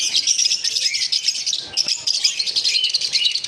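Pet lovebirds chirping continuously, a dense high twittering of several birds close by with no pauses.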